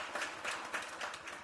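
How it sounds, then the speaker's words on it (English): Audience applauding at a school governing board meeting to honor a first-grade best-teacher award winner; soft, fairly distant clapping runs steadily throughout without voices. "Very round of applause for Tracy."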